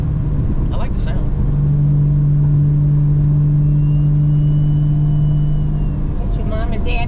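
A 600hp single-turbo BMW 335i with the N54 engine holds a loud, steady drone for several seconds, rising and then settling, while people talk over it inside the car.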